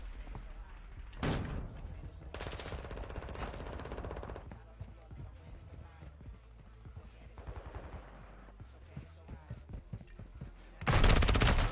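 Shotgun fire in a first-person shooter match, loud rapid bursts of game gunfire in several clusters, the last and loudest near the end, with a player talking between shots.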